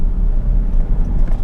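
Kia Carnival 2022 minivan climbing Genting hill under acceleration, with wheels slipping slightly; a steady low engine and road rumble, close and continuous, with no voices.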